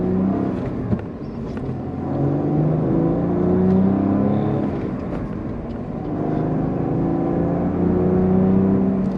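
A 2024 Cadillac CT4-V Blackwing V6 engine pulling smoothly under acceleration, heard from inside the cabin as a low, steady drone that swells and eases a little over several seconds, with no talking over it.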